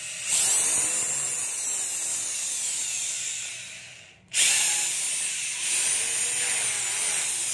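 A Ruby three-function hammer drill with reverse runs at full speed, a loud, steady high-pitched motor whine that cuts out briefly, then revs back up and keeps running close by.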